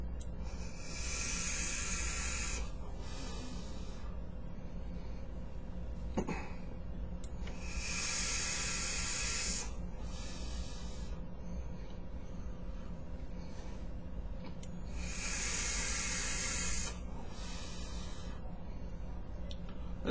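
Hissing draws on a Mutation RTA e-cigarette tank, three long airy pulls of about two seconds each spread across the span, close and steady over a low background hum.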